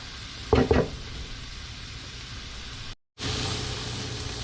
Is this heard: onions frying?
yes